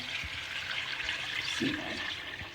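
Goose broth poured into a pan of toasted topalak mixture in a home kitchen, a steady close liquid rush and splash lasting throughout with no talk.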